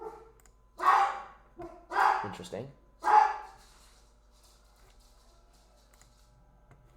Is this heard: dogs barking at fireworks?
yes